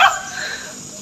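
A single sharp dog bark right at the start, fairly close, then a fading noisy tail with nothing else following.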